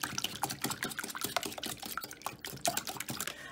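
Egg and milk whisked together in a bowl for breakfast muffins, a quick irregular run of wet clicks and light sloshing taps close up, with no voices.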